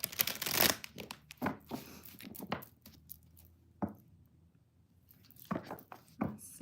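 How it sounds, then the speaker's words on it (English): Tarot cards shuffled by hand in a quiet room, a run of soft papery riffles and flutters with brief pauses between bursts, close and fairly faint, no talking. "let's get these nice and shuffled, and we'll see what's coming up for us this week"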